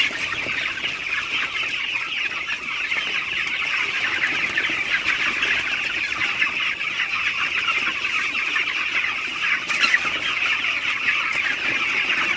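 A flock of 17-day-old broiler chickens clucks continuously inside a poultry house, a dense overlapping chorus of many birds, steady and close.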